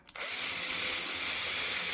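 A power drill bit bores holes into a bison hide leather boot, starting abruptly and then whirring loud and steady at close range with no talking.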